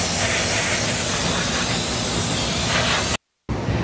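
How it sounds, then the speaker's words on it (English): Brake cleaner sprayed from an aerosol can onto a car's front brake caliper with the wheel removed, a loud steady close hiss that stops abruptly, then resumes briefly. "wash the caliper down with brake cleaner, available at most auto parts stores"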